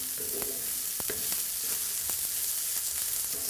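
Vegan fig and wild rice stuffing fries in olive oil with a constant close sizzle, while a spoon stirs it in a few sharp scrapes and taps. No one speaks.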